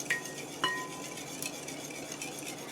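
Carrot cake batter being stirred in a bowl, a thick, sluggish mix with a couple of sharp clinks of utensil against the bowl early on, then a steady soft scraping.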